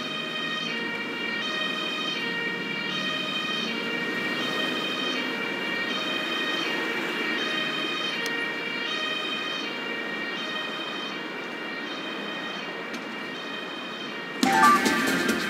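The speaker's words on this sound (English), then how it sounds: "The ambulance is taking the casualty to the hospital ward at the base." An ambulance siren in the emergency-services video game Emergency 2016 wails continuously, a loud, steady electronic tone over a low engine rumble, ending in a burst of noise near the close.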